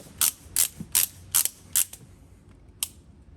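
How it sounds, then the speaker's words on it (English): A torque wrench being adjusted to 35 foot-pounds during a Cadillac CT4/CT5 V Blackwing steering wheel install, giving six sharp, close ratcheting clicks at an even pace with a short gap before the last. "you're gonna want to set your torque wrench to 35 foot-pounds"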